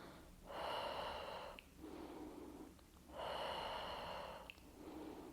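Slow deep breaths in and out during a pregnancy exercise session, two long airy inhales each followed by a softer exhale, close and quiet with no talking.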